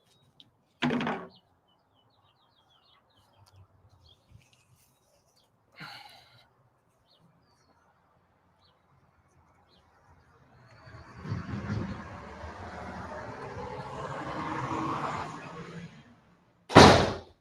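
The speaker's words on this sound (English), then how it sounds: "Sorry, that door is kind of loud, guys." A loud door slams shut, a sharp close bang at the very end after several fainter knocks and a stretch of rustling handling noise, with no talk.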